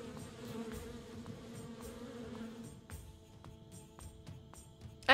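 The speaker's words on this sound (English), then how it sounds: "The bees won't let me get close enough." Bees buzz in the point-and-click game Kelvin and the Infamous Machine as a steady, close, humming drone with faint clicking game sounds over it. The buzz thins out toward the end.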